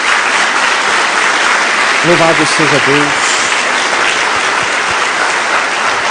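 Church congregation applauding in praise, a continuous loud wash of clapping throughout while a voice briefly speaks over it partway through.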